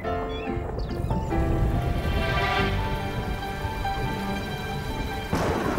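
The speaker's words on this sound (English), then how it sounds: "It's raining!" Steady rain hisses throughout in a children's animated show, with a soft low rumble and a layer of background music underneath.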